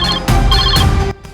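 A telephone rings as a sound effect, loud and close, with two bright bursts of ringing before it cuts off into near silence.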